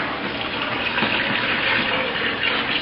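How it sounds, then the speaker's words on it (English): Cold broth poured into a soup pot, a steady continuous splashing gush of liquid with no talking. "I'm going to take the broth and carefully pour it in"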